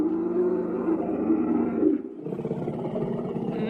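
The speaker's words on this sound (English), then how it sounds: "As you guys are exploring the jungle, you hear a loud roar." A loud, deep roar sound effect of a Spinosaurus in a jungle, one long rumbling bellow that shifts midway into a second growling phase, with no talk over it.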